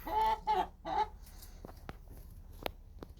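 Several chickens cluck in quick, close bursts, followed by quieter background noise and a few sharp clicks.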